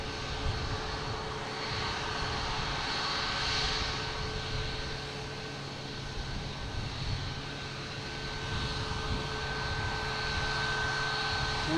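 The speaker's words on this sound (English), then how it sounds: "next takeoff is American Airlines heading to Charlotte, an A321." An American Airlines Airbus A321 jet takes off at Boston Logan Airport, its engines giving a continuous, broad roar that holds steady throughout.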